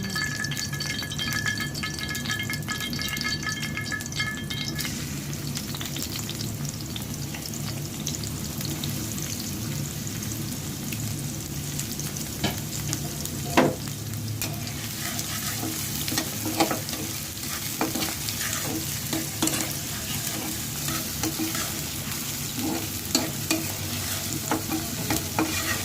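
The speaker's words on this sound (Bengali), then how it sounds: "এখন আমি এটার মাঝে ফ্রাইড বেরেস্তা করবো রোস্টের জন্য আর" Onions fry in hot oil in a wok for beresta, giving a steady, close sizzle throughout, broken by occasional stirring scrapes and clatters.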